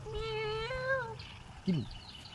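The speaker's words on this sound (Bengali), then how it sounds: "বিলাই ডাকে" A cat meows in a long, drawn-out call, followed by a shorter second meow, close by over low background hum.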